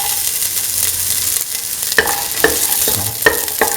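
Garlic and ginger hit a hot pan of beef and green peas and sizzle steadily, with several sharp scraping stirs of a utensil against the pan, close up and without talking.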